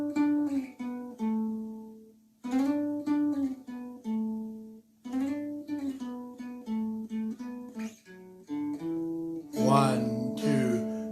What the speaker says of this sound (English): We put in there 3 strums between the two.